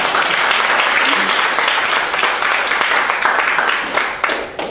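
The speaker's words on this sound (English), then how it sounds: "I want to see some woman clapping for the brother." Women in a church congregation clap together in dense, sustained applause that stays loud and steady throughout, fading slightly at the end.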